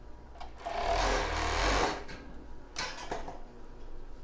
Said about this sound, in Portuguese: Juntar as três partes e vou costurar.